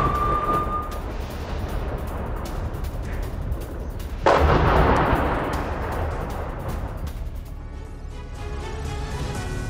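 Bombardment in Gaza: heavy artillery fire rumbles as a loud, dense roar, with a sharper blast surging midway and then slowly fading back into a sustained low rumble.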